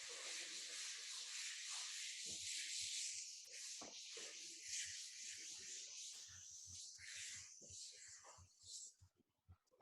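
A board being erased in an optics lesson, a steady rubbing hiss that runs almost without break for about nine seconds, close and fairly quiet, then trails off into a few short scrapes at the end.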